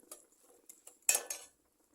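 A metal lid is lifted off a cooking pot of bitter gourd, with a short run of light clinks and scrapes building to a brief louder metallic clatter, then silence.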